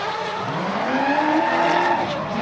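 A BMW E30 chases a lighter turbocharged car in a drift competition at Logatec, engines roaring loud and close with rising revs and continuous tire squeal across the pass.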